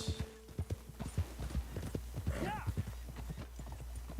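Horse hooves clip-clop steadily at a walking pace in the Red Dead Redemption 2 video game, a run of close, regular thuds heard over a faint background.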